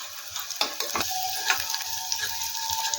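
Dry fruits shallow frying in oil in a pan, a continuous close sizzle broken by repeated scraping and clinking strokes of a stirring spoon.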